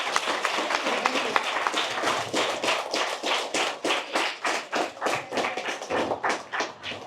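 Students in a school classroom clap together in a rhythmic, fairly even burst of hand claps that slows into distinct, spaced claps near the end, close and clear with no talk over it.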